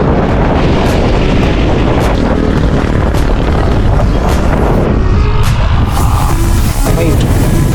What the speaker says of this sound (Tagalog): Lakas ng hangin, no?